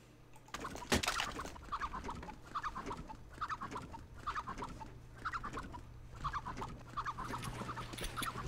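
A chicken in the video game CSGO clucks repeatedly, a steady run of short nasal clucks at an even rhythm after a sharp click near the start, fairly near and alone without talk.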